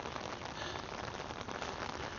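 Steady rain falling on a garden with plants after days of rain and wind, a soft, even hiss of drops on surfaces that stays faint and constant with no voices.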